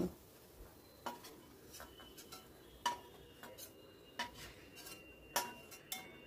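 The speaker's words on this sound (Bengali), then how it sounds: "পেঁয়াজটা ভাজা হয়ে গেছে, এবার এটাকেও আমি সরিয়ে রাখছি একটা পাত্রের ভেতর।" Fried onions are scooped from a pan into a bowl, producing a series of sharp metallic clinks and scrapes of a utensil against cookware, spaced irregularly over a quiet background.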